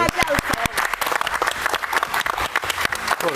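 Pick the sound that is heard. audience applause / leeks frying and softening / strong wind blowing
audience applause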